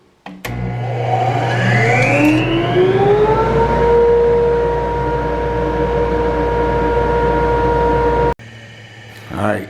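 Rockler Dust Right two-stage dust collector starting up: a loud motor whine that rises in pitch as it spins up, settles into a steady roar, then cuts off abruptly, with brief noises afterward.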